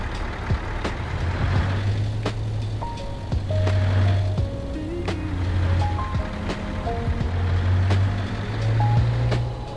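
A truck in a truck simulator game reverses with repeated electronic backup beeps over a steady engine drone, with a few faint tonal chimes and thuds but no talking.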